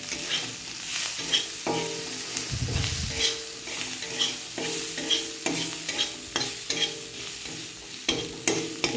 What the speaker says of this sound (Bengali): এবার আমি এই ভাজা পেঁয়াজটার মধ্যে একটু জিরের গুঁড়ো দিয়ে দিলাম